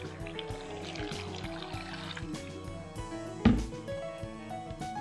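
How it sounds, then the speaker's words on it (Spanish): Water poured into a blender jar over tomatoes, celery and greens for a beef stew sauce, a steady splashing fill heard on its own in a kitchen with a brief clunk partway through. "Le ponemos agua."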